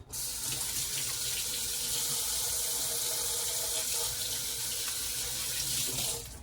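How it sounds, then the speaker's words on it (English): Steady running water from a sink tap as hands are washed in a home kitchen during meal prep, a continuous close rush that holds for several seconds before tapering at the end. "Wash my hands."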